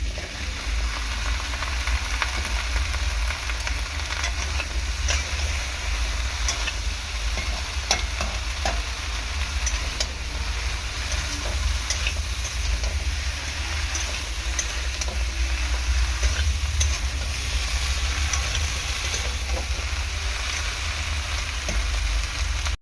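Chopped okra hits a hot pan in an okra and prawn curry, frying with a steady, dense sizzle while being stirred. The crackle holds loud and even throughout, with occasional scrapes from the stirring and no talking.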